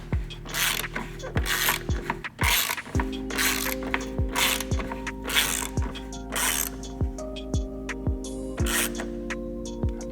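Ratchet tightening bolts on a carbon fiber rear diffuser of an MK7 GTI, giving a steady run of rapid clicking strokes with brief sharp knocks between them, close and clear with no talk.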